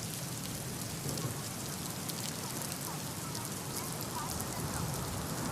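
Heavy rain showers pour down over Khed during monsoon flooding, a steady dense hiss of rainfall lasting throughout with no break and no voices.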